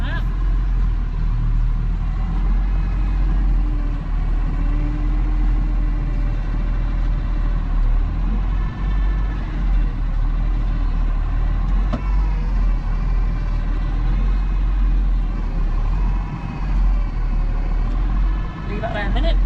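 A tractor drives across a silage field toward a row of bales, its engine giving a steady, close, loud rumbling drone throughout while someone talks over it.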